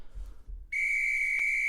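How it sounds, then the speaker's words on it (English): A single sustained, piercing whistle blows loud and steady after a brief low rumble, holding its bright tone to the end with no talk. "We got a little whistle."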